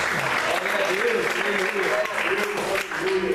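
Sustained applause from a church congregation at a night service, broad and continuous clapping with a voice speaking over the crowd noise throughout.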